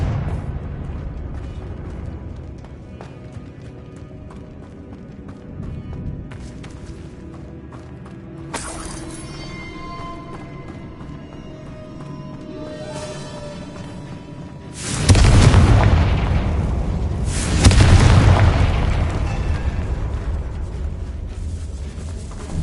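Fiery Confringo spell blasts in the game Hogwarts Legacy, two loud booming explosions around the middle-to-late part with rumbling tails, over a quieter ambient game backdrop.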